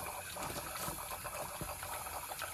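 Water poured from above into a pot of lily bulbs, a steady gushing, splashing fill that runs continuously up close with no pauses.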